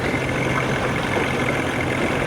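A Johnson 40 hp outboard motor idles close by, a steady, loud, even low rumble with no talking.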